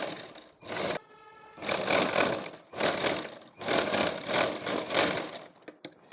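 A sewing machine stitches a straight seam in three long bursts of loud, steady whirring, separated by short pauses, with a few sharp clicks at the end.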